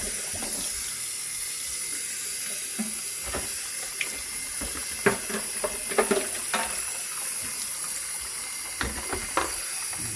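Water from a hose rinses the engine bay of a 2016 Jeep Cherokee, a steady hissing spray with scattered splashes and drips against metal, fairly close and without talking.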